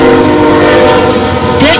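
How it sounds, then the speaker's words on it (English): Two trains pass close on both sides with a loud, sustained horn blast over the heavy rumble of rolling cars. The sound stays steady and near throughout. "it's two trains, one on both sides."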